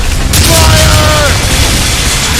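Heavy booming ship cannon fire during a naval battle in Assassin's Creed Rogue, loud and close, blending into a continuous roar of blasts and rumble, with shouting voices mixed in.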